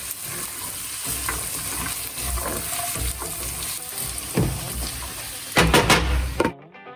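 Carrots for a vegetable pie cook in a pan with a steady sizzle and crackle, stirred now and then with scraping sounds, close by and without talk, before a louder clatter and sudden quiet at the end.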